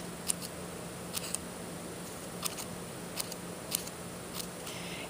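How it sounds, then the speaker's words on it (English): Scissors make small snips into paper to cut a fringe for a paper sculpture, about eight crisp, isolated clicks spaced irregularly over a quiet, steady background hum. "So to make the fringe, I just take my scissors and make these little snips."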